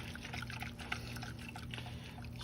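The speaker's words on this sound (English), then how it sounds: "Just gonna pour it in, pour it in, pour it in, pour it in." A custard mixture with gelatin is poured into a container, a soft, faint liquid trickle with small splashes over a low background hum.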